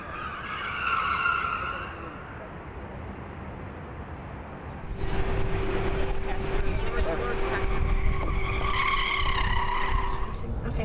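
Ford Mustang tires skid during a spin-out on a cone driving-skills course, with a rough broadband scrub that swells into a sustained squealing tone partway through, loud and close.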